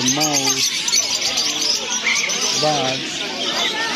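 Birds chirp and tweet among the stalls of Souq Waqif, the historic market in Qatar, with bright calls scattered through the bustle and someone speaking close by over them.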